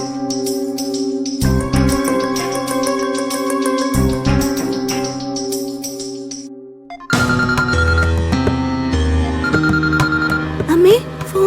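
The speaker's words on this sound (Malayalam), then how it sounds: "ഫോൺ കേട്ടു മോളെ" A telephone ringtone plays as a repeating melodic pattern. It pauses and then carries on in a different pitch and rhythm, with a steady low backing under it and no voices.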